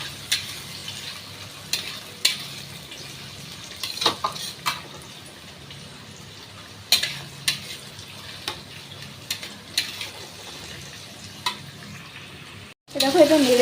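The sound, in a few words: tomato, garlic and green chilli frying in a pan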